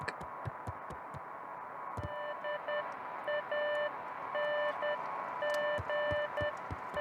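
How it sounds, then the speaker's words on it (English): Faint electronic beeping in the video game Beacon Pines, short repeated tones in uneven bursts over a low ambient hum and soft thuds, no talking. "Let's go upstairs to try and find this beeping sound."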